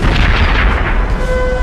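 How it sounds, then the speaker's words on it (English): A barrage of powerful cannon fire at Waterloo, rendered as a continuous loud, dense rumble of booms and blasts with no clear gaps between shots, close and overwhelming. "Shortly after midday, Napoleon ordered a barrage of his most powerful cannon."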